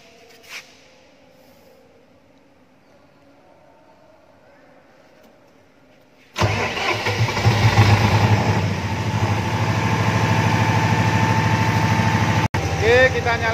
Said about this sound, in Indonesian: sekarang kita coba nyalakan genset